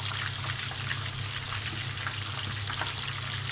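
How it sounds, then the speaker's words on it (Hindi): Lahori chargha, a whole coated chicken, frying in oil over a medium flame, a steady, even crackling hiss with scattered small pops, constant and fairly close throughout, no voices. "उसके अंदर हम अपनी जो चरगा है इसको फ्राई करना शुरू कर देंगे।"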